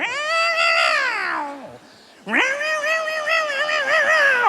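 A voice imitates two cats fighting, with loud, strained yowls and meows that slide in pitch, then break off briefly before a second burst of caterwauling resumes, close and continuous, during a stand-up comedy routine.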